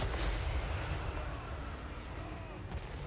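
Artillery fire in a Total War: Warhammer III battle sounds as a dense, continuous rumble of distant booms and gunfire that blends into a steady wall of battle noise.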